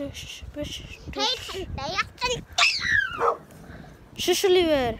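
Big dogs barking and yipping in short bursts at moderate distance, mixed in with a child and adults chatting nearby.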